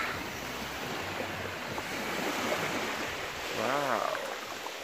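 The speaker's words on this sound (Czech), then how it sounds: "poslouchat moře" Sea waves wash steadily onto a beach on a Thai island, a continuous soft surf hiss at moderate level with a brief swooping tone near the end.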